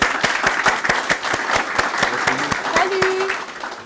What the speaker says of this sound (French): Je vous demande d'applaudir bien fort la Vipaji